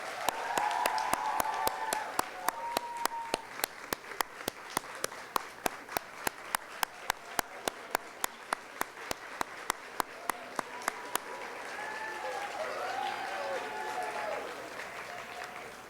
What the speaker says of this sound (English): let's give your outstanding citizens a round of applause